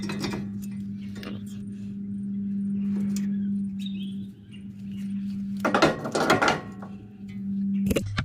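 Bolts come off a front brake caliper on a 2014 Ford F-150 FX4 truck, heard as close mechanical ratcheting and a steady tool hum, broken by sharper clattering metal bursts near the end.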